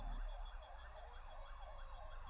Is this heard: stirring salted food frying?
no